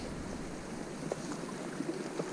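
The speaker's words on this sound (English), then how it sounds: "The sound of the water passing under all the rocks." Water runs under the rocks of a boulder field on the Pinchot Trail as a soft, steady rushing wash with faint gurgles and drips, low in level and with no voices.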